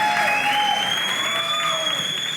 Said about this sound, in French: Harry, je vous demande d'applaudir bien fort pour mon invité spécial.